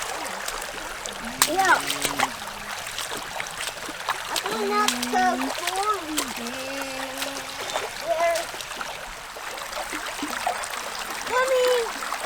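A small creek flows with a continuous splashing, gurgling rush close by, while someone talks and hums over the water throughout.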